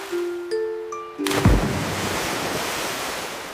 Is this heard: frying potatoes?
no